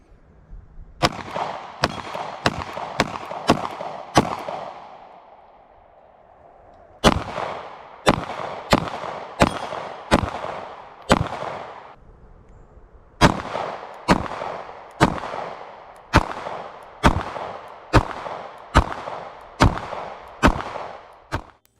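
Around twenty sharp, loud pistol shots from a Springfield Hellcat firing Fiocchi ammunition, spaced in steady strings of rapid shots separated by short pauses, each crack followed by a quick decay.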